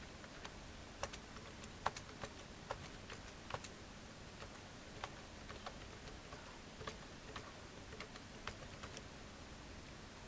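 Soft, faint keystrokes on a computer keyboard tick out at an irregular pace, spread sparsely across several seconds in an otherwise quiet room.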